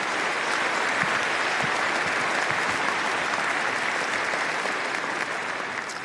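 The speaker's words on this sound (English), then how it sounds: "Let's have a round of applause for these university leaders." Steady, dense applause from a large audience at the Auburn University fall commencement ceremony, a broad wash of clapping that holds for several seconds and eases slightly at the end.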